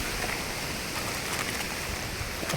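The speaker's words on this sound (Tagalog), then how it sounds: "Lakas ulan." Heavy rain pours steadily, a dense close hiss of drops drumming on surfaces with no pauses.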